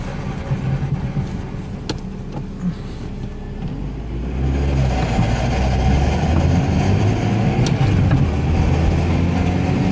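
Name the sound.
1999 Plymouth Neon single-cam engine running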